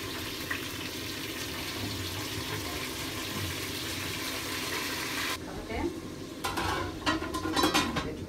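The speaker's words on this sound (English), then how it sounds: "Fried my onion, so I'm going in with my tomatoes." Tomatoes added to fried onions in a pan, a soft continuous sizzle with scraping and clinking of a spoon against the pot toward the end, voices faintly present.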